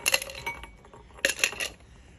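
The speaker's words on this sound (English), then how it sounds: "grab your shaker glass. We're going to go some small ice cubes," Roughly five small ice cubes clatter into a cocktail shaker glass in two bursts of bright clinks, close and crisp with quiet pauses between.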